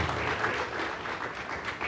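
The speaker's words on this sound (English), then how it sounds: "And we'll keep the applause going." Clapping from the audience at a city scholarship awards ceremony in Boston: a steady, moderately distant wash of many hands that continues evenly without any speech over it.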